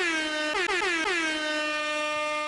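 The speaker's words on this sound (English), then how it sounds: "Let me give you the air horn because it's been a minute for you" Air horn sound effect blasting loud and sustained, with a few quick stuttered honks in the middle before one long held tone, with no talk over it.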